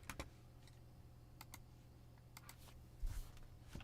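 Scattered keystrokes on a computer keyboard, a few isolated clicks spread unevenly over a few seconds, faint against low background hum.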